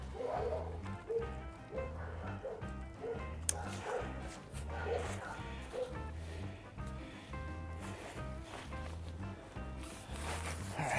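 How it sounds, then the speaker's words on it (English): Dogs bark near a campsite while a Coleman tent is being pitched, in short repeated yips and woofs that come and go over a steady tonal background, with a person talking at times. "And the dogs that will serenade you while you're putting it up."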